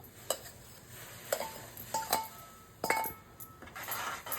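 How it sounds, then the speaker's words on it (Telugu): Jowar flour being stirred into just-boiled water in a pot off the heat: quiet, scattered clinks and scrapes of a utensil against the vessel, some sharper taps near the end, with no talking. "వేసి కలపాలి. పిండి అంతా బాగా కలిసేలాగా కలుపుకోవాలి."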